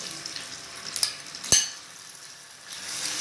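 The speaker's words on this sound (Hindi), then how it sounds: "अभी मैं इसमें गोश्त ऐड कर रही हूँ।" Small boneless mutton pieces hit hot oil in a biryani pot and sizzle steadily, with a sharp clatter as they go in and a stirring scrape partway through.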